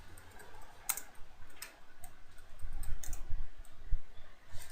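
Keys tapped on a computer keyboard while a password is entered during an Ubuntu install, a few sparse, separated clicks over a low background hum, close and fairly quiet with no talking.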